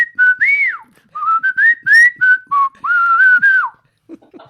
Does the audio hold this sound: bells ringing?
no